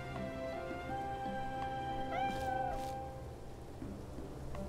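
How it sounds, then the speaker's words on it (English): A cat meows in the video game Octopath Traveler, a couple of short rising-falling mews set over steady background music. "That cat meowing, man."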